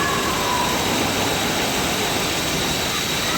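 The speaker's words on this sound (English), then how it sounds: "Now I'm going to run it onto the mag, and you'll hear the engine note change." Steady, loud roar of a 1914 Rolls-Royce Eagle piston aero engine running on magneto, continuously at an even pitch, close by, with no voices.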